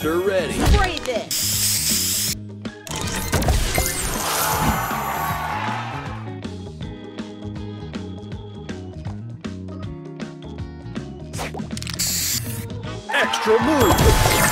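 Spray booster effect from the Match Masters mobile puzzle game: a loud burst of hissing spray with sizzling texture and bright chimes over game music, with an announcer voice calling out during the effect.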